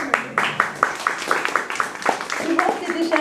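An audience applauding a 5-year-old girl at a park gathering, with a quick run of sharp, rhythmic claps that softens into scattered clapping as a voice speaks over it.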